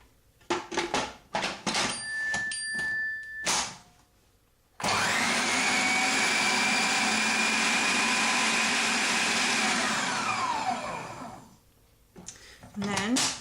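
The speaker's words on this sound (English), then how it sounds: "you can use your food processor" A food processor whirs loudly and steadily for several seconds, mixing flour and sugar for a banoffee pie pastry base, with a person talking before the motor starts and again after it stops.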